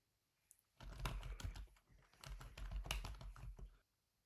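Steady, close typing on a computer keyboard as a template name is entered, dense key clicks running for about three seconds with no speech.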